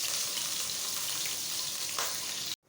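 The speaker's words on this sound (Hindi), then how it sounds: "प्याज को अच्छी तरह से गोल्डन ब्राउन करें" Onions frying in a pan for mutton yakhni pulao, browning to golden, give a steady close hiss and sizzle with a brief stir near the end, then a sudden cut to silence.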